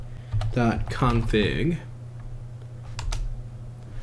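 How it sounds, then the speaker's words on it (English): Someone types a terminal command on a computer keyboard. A voice talks over the opening, then a few sparse key clicks follow. "we're going to type in sudo nano space, and then we're going to type in Samba smb.config"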